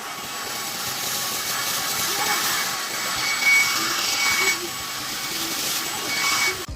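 A MOOSOO smart vacuum cleaner runs continuously with a loud, even motor whine and airy hiss, rising slightly at moments as it sucks up debris, with no other sounds standing out.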